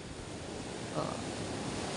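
Small sea waves wash along a shore as a steady broadband rush, close and fairly even, with a slight swell near the middle and a constant wind-like hiss underneath.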